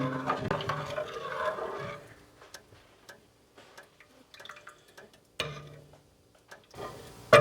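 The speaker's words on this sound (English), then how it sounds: "I'm going to stir that around" A spoon stirs salt into red pepper soup, giving soft scraping and light clinks against the pot. Sparse ticking taps follow, then a sharper knock near the end.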